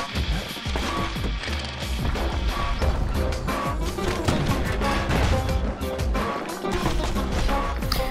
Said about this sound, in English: You just shoot a ghost of yourself swinging the machete